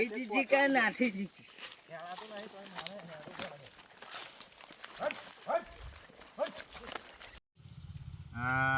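Cows that have run loose from grazing moo loudly and repeatedly up close, with voices talking over the calls and possible hoof clops.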